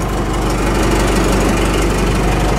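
A Cummins diesel engine in a Ford F150 runs close by with a loud, steady rumbling clatter, continuous and uniform throughout.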